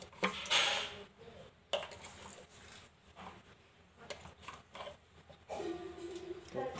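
Spices being stirred into pieces of fish in a pot for spicy Telangana-style fish curry, with soft scraping and clinking of a utensil against the pot in irregular strokes, fairly quiet.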